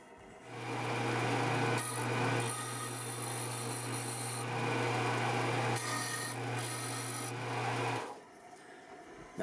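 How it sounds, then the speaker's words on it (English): Wooden guitar soundboard braces being sanded on a disc sander: a loud, steady motor hum with gritty rubbing bursts as the wood is pressed against the disc, running continuously for about eight seconds before the machine cuts off. "So let's go sand these angles into these braces on the disc sander."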